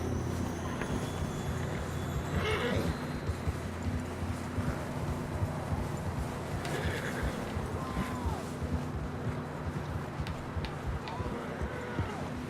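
Horses whinny and move over steady background ambience in the Red Dead Redemption video game, with scattered hoof sounds and occasional game effects, fairly faint overall.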